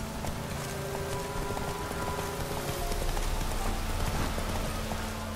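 Roach the horse clip-clopping in The Witcher 3 video game: a quick, even patter of hooves plays over a steady hiss like rain, continuous and fairly close.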